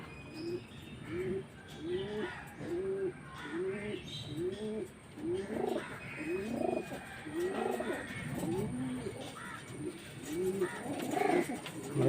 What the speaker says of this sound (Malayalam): ഒക്കെ റിസൾട്ടുള്ള പ്രാവളാണ്